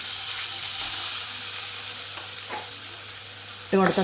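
Large-cut pieces of nendran banana fry in a hot pan with a loud, continuous sizzle and a few soft stirring scrapes, ending in a short sharper clatter, close by with no talk.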